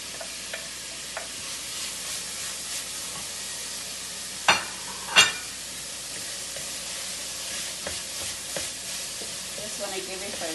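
Lobster fried rice sizzles steadily in a pan while it is stirred and tossed, with a couple of sharp scraping clacks from the utensil and a continuous frying hiss underneath.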